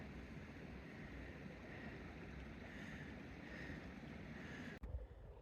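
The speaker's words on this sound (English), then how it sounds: "Little river bend as it gurgles through" A small creek gurgles steadily around a bend in a partly frozen, snowy stream north of Buckeye Hot Springs, California, a soft continuous wash of flowing water with a faint breeze and a brief knock near the end.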